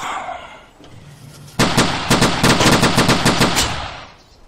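Gunfire erupts in the World War II video game Sturmtroopers: after a quiet lead-in, loud rapid machine-gun bursts rattle for a couple of seconds, then fade out.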